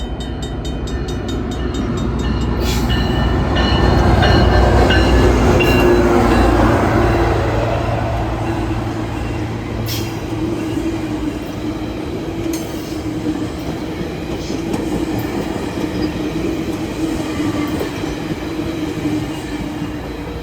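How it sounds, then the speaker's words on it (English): A GO Transit commuter train rumbles past on the Toronto–Niagara main line, loud and close from the start, with a swelling rail roar and wheel clatter that stays steady before easing slightly toward the end. "Good old GO train."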